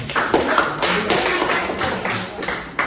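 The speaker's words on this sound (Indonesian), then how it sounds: "Iya, tepuk tangan." Classroom applause: a group of hands claps in quick, uneven bursts, close by and fairly loud, over a short stretch.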